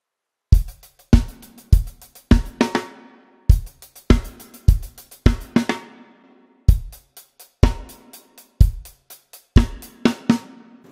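A drum kit plays the second intro fill of a song: rapid, close, punchy snare and tom hits in tight repeated bursts with cymbal wash, played alone with no other instruments.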